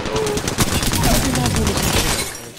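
Rapid automatic gunfire crackles loudly and almost without pause in a battle royale video game firefight, bursts overlapping in a dense stream with brief voice chatter mixed underneath.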